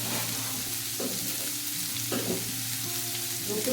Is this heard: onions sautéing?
yes